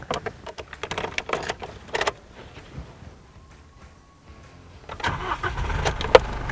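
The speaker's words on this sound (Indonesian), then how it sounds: "Langsung kedengeran ya suara mesin dieselnya." An Isuzu mu-X diesel SUV engine cranks and turns over after some clicks and rustling of a conventional key start, then settles into a steady rumbling diesel idle close by.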